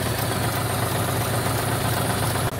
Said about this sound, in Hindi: जिसमें पीटीओ साफ चल रही है मशीन में